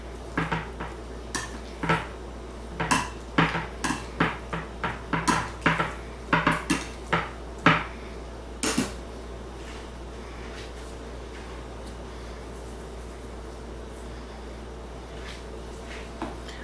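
Olive-oil-coated pieces being turned in a pan, a run of sharp metallic clinks and scrapes from utensil on pan in quick irregular bursts, then quiet sizzling, with no talking.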